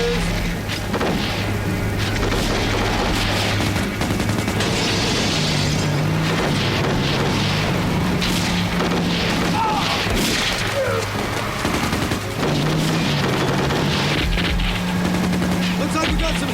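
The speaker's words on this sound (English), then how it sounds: "Looks like we got some heavy artillery in this tower straight up ahead" Heavy artillery and gunfire in an action-movie battle scene, a dense, continuous barrage of booms and rapid shots with mechanical clatter, loud throughout, and voices speaking over it in places.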